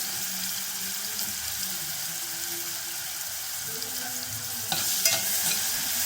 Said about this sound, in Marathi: फोडणी करून घेतली.